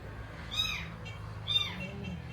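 A small kitten cries twice from somewhere near a house, faint thin mews spaced about a second apart over light rain.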